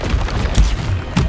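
A Confringo spell blast in the Hogwarts Legacy video game, heard as a loud booming burst with another short explosive hit about a second later over a low rumbling background.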